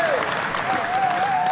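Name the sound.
audience applause at a political rally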